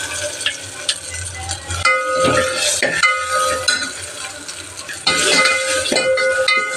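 White gongura greens stirred in a cooking pan after a pinch of asafoetida goes in, with repeated scraping and clinking of a spoon against the pan over a soft frying sizzle.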